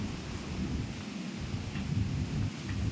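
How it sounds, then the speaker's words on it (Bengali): Heavy fine drizzle blowing in strong wind outside a village house: a steady, dense rushing wash with low rumbling gusts, continuous and moderately loud, with no voices. "প্রচণ্ড বৃষ্টি গুঁড়ো বৃষ্টি পড়ছে"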